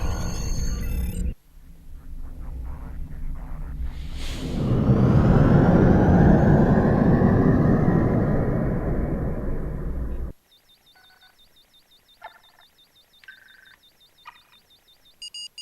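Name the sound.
starship thrusters leaving space dock in Star Trek Online video game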